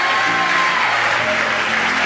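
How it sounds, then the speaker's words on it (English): A crowd at SpaceX cheers and applauds loudly and continuously after the Falcon launch deploys Bangabandhu Satellite 1, a dense, steady wash of clapping and shouts filling the whole moment. "the crowd here at SpaceX is extremely excited"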